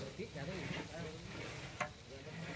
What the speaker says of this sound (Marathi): हे जे अद्रक लसूण पेस्ट आहे ती आता भाजत आलेली आहे